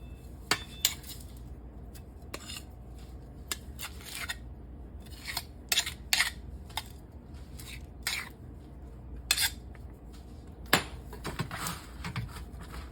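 Metal kitchen utensils clatter and clink in a home kitchen while a spatula is grabbed, a string of sharp scattered clanks and scrapes of varying loudness with no talking.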